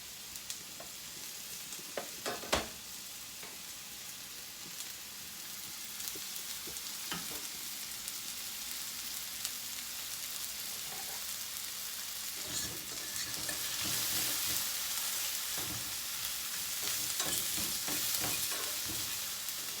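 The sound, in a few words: peppers frying in a pan with sausage and sweet potatoes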